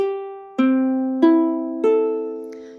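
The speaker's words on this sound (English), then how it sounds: "So now an in tune ukulele sounds like this." Four strummed chords on an in-tune GCEA ukulele ring out one after another, each bright and clear, left to sustain and fade before the next.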